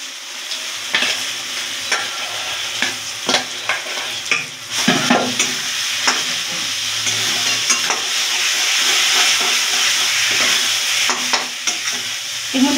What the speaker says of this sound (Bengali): এবার আমি এই মাখাটা, ওল মাখাটা এর মধ্যে দিয়ে একটু তেলে নেব।